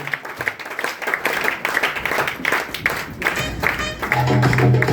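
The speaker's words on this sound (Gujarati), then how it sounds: "યસ જબરદસ્ત તાળીઓ." An audience breaks into applause: a dense stretch of hand clapping, fairly close, with people talking over it.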